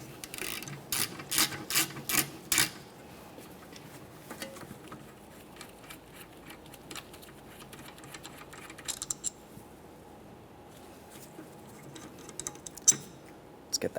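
Ratchet clicks rapidly as a brake caliper bolt is removed on a rear brake of a Toyota Sienna, with a quick run of close clicks at the start, then scattered faint clicks and handling noises.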